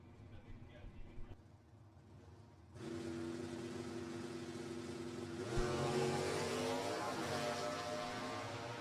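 A 1987 Camaro and a 1972 Mustang with a 351 V8 launch down a drag strip; after a quieter start, loud engine roar builds and swells as the cars accelerate away, heard from the track side.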